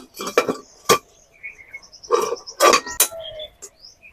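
Metal scraping and clinking against a blackened kadai as it is scrubbed clean on the stove, a series of short, sharp, close scrapes and taps in uneven bursts with brief pauses between.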